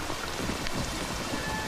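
Steady rain falls throughout, a dense, even hiss with soft pattering and no voices, in a scene from a Hindi action film.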